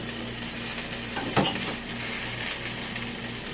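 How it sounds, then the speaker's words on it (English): Garlic roasting in a pan as the base for a poblano cream sauce, a close steady sizzle with one sharp utensil scrape against the pan near the middle. "I'll add my garlic just to roast it up a bit before we start blending this all together"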